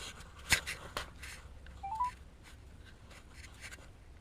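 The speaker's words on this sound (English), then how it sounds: "I'm gonna give him a call here." A phone dials a contact, a few short rising tones amid close tapping and handling noise, quiet with no talk.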